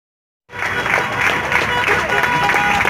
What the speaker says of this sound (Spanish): 9 de la noche, los aplausos en la feria del Parque Rodó.